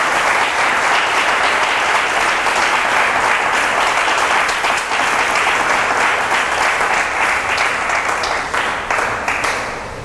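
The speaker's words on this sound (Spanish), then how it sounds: "Vamos a darle un aplauso a nuestro Señor porque Él hizo este sacrificio por nosotros." Congregation at a Christian convention in Arauca, Colombia applauding for the Lord, loud sustained clapping from many hands filling the room without a break for the full stretch.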